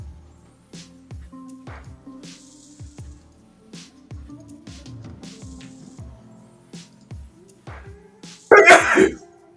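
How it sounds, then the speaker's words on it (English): A single loud, sharp sneeze bursts out near the end, following a stretch of quiet, irregular low tapping and shuffling sounds. "I noticed you sneezed."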